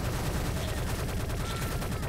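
Sustained rapid P90 submachine gun fire in a competitive shooter match between Sigma and Clout, dense overlapping bursts crackling continuously and loudly from start to finish with no voices.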